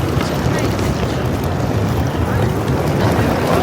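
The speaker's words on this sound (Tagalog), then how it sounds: "So cold. Ang hangin." Strong, cold gusts buffet the microphone outdoors in Ximending, Taipei, producing a loud, continuous roaring rumble with no pauses.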